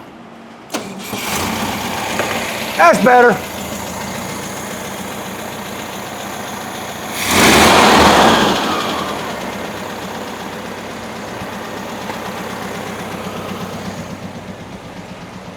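A 1971 VW bus engine cranks and catches, then settles into a steady idle; a brief revving burst rises midway before dropping back to a low rumble, with a short spoken remark.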